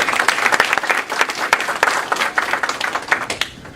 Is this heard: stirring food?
no